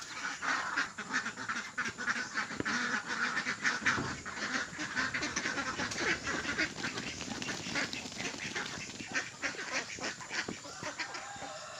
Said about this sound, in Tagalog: Punta na tayo sa ating itik at nagugutom na sila. Ang ingay na.